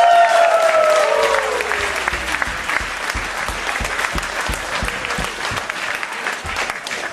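A crowd at a local youth club's revue premiere party applauding itself, a loud sustained wave of clapping with a fading tonal sweep at the start and the applause thinning toward the end.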